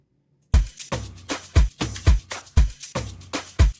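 After a brief silence, an Afro House drum loop made in FL Studio kicks in, with a snare added over punchy low kicks and clap hits in a steady, driving pattern.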